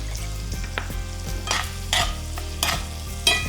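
Artichokes saute in a pan with a steady sizzle and rhythmic scraping stirs about every half second, close and moderately loud, with a low hum underneath.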